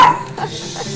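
Two pet dogs barking indoors at home, sharp close yaps and barks in quick succession, loud and filling the short moment with no talk over them.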